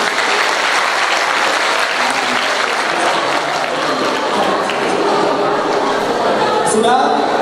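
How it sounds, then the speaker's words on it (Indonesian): Applause from a group of students at an Islamic boarding school in Aceh Tenggara, a dense, loud, continuous burst of clapping that fills the room, with voices talking underneath. "Tepuk tangan."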